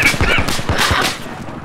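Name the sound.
AK rifle gunfire in video game Battlefield 4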